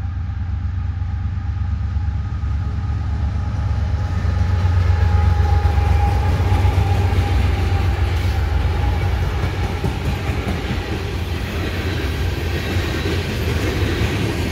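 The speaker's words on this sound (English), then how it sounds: "Coming south, this is loaded coal train" A loaded CSX coal train rolling past southbound, a loud continuous rumble of wagons with rhythmic wheel clatter and a faint metallic squeal, sustained throughout.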